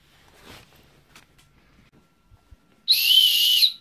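One sharp, shrill whistle blast, close and loud, used as a recall signal for cats in a home, following a few faint footsteps and quiet room noises.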